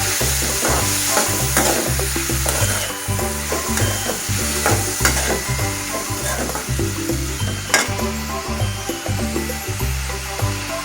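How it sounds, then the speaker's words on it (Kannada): Green chilli, capsicum, tomato and other vegetables frying together in a pan over a medium flame for vegetable pasta, a steady close sizzle with stirring scrapes and a pulsing low hum underneath, no talking. "ಉರಿನ ಮೀಡಿಯಮಲ್ಲಿ ಇಟ್ಬಿಟ್ಟು ಫ್ರೈ ಮಾಡ್ಕೋಬೇಕು"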